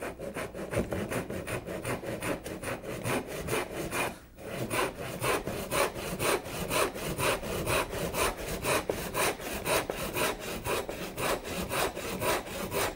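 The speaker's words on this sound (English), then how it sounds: "Taking care to try and saw square to the line, right down to the tenon cheek, and stopping" Hand saw cutting a wooden tenon down to the cheek, steady rhythmic rasping strokes close up and continuous, with one brief pause near four seconds.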